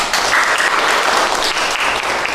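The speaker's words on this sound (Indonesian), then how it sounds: "tepuk tangan dari kalian sendiri" A classroom of students claps together, a dense and steady patter of many hands that fills the whole stretch at close range with no voices over it.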